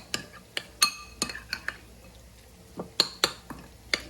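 A metal spoon clinks sharply against a bowl while cheese is mixed into a hot baked potato, with a dozen or so irregular close taps and scrapes between short pauses.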